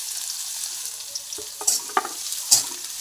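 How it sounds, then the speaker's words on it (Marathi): Bitter gourd slices fry in hot oil in a kadhai with garlic and salt, a steady close sizzle with sharper crackling bursts and scraping stirs toward the end. "तेल तापलं की लगेच कारल्याचे काप टाकून घ्यायचे"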